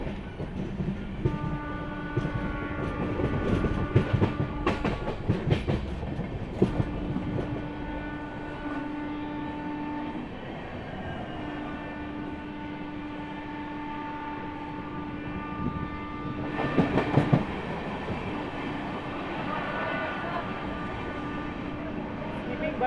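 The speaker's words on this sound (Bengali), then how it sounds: "শিয়ালদা বেনারস অমৃত ভারত স্পেশাল স্কিপ করতে চলেছে বর্ধমান জংশন" The Sealdah–Benaras Amrit Bharat Express runs through Bardhaman Junction without stopping, a sustained rumble of wheels with rhythmic clacks over rail joints and steady tonal hum, moderately loud throughout.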